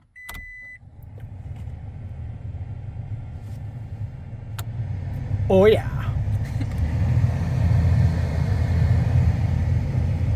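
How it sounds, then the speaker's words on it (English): A replacement cabin blower motor in a Toyota Tacoma pickup spins up and runs as a steady, smooth whir inside the truck, gradually building over the idling engine rumble, with a short beep and a brief spoken remark partway through. "Let's see if the blower motor works."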